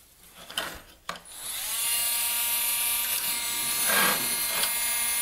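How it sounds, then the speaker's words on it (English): A desoldering gun on a circuit board pulls the legs off a memory chip, a few sharp clicks and then a loud steady motorized whine and buzz running close and continuous. "Then I can come back in and pull the legs out with the soldering gun."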